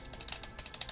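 Game controller buttons are mashed rapidly during Bayonetta 2 play, giving a quick run of close, faint plastic clicks and rattles with no voices.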